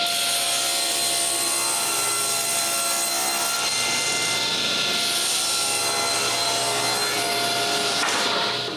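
A power saw cuts wood panels for drawer parts, its loud, steady high-pitched whine and rasp running unbroken for several seconds before cutting off at the end.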